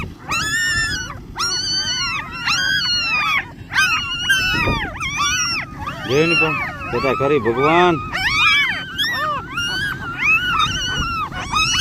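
A female dog whines and howls in repeated rising, wavering cries while searching for her newborn puppies. The calls are loud and close, and people talk over them.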